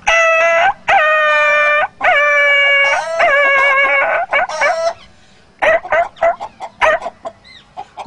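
A voice imitates a dog yelping in pain after being struck with a stick. A run of loud, sharp, high whining yelps comes first, then shorter, broken cries that trail off.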